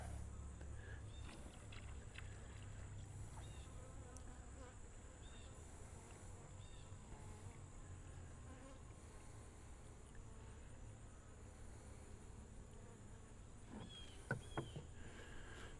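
Honey bees buzzing around a hive feeder filled with water and floaters while preparing hives for winter, a continuous close drone with individual bees flying past and a couple of brief knocks near the end.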